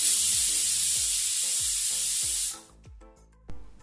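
Pressure cooker with soaking sabudana on high flame, releasing steam in a loud, steady hiss that cuts off abruptly, leaving quieter kitchen clatter and a few soft knocks.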